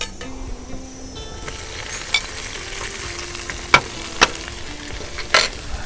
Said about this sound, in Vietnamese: Để mình cho miếng tỏi, miếng hành vô. Chiên lại cái chả này.